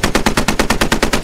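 A machine gun in the World War II shooter Post Scriptum fires one sustained burst of about a dozen evenly spaced, loud, close shots in rapid rhythm.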